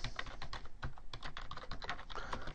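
Quick, uneven keystrokes on a sticking computer keyboard, a steady patter of close clicks at moderate level with no talking.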